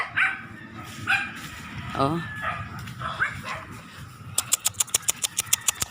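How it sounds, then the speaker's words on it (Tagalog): Dogs bark in a rapid string of sharp yaps near the end, after a voice speaks briefly over rustling outdoor noise near the sea at dusk. "Mga aso ito."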